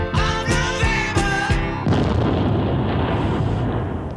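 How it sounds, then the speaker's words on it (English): Several sharp bangs followed by a sustained rumbling explosion roar that fades slowly at the end of a played clip about Guy Fawkes and the 5th of November. "Which is silly to put an explosion at the end."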